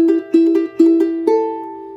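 A charango phrase plucked on the open third, fifth and second strings, alternating notes in a brisk rhythm before settling on a ringing final note that fades, close and clear without any talking.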